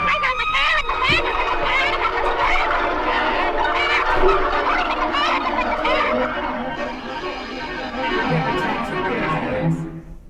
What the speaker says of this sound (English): These are chickens protesting their eggs being taken at excess.